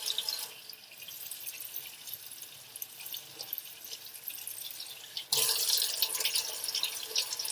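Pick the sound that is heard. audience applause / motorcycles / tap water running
tap water running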